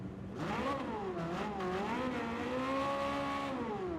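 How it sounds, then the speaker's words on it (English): A Porsche 963 race car engine in Gran Turismo 7 revs and climbs through the range, its pitch swooping up and down before holding a steady high whine, loud and continuous with no voices over it. "The Porsche 963 does not sound like that."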